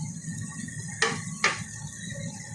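Vegetables including pepper and carrot, along with fried potatoes, are stirred in a pan, with two sharp utensil clinks against the pan over a low steady sizzle.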